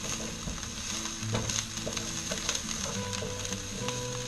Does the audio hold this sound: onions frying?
yes